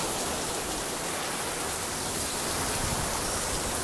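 Steady rain pours down in an even, continuous hiss, fairly soft and unbroken throughout.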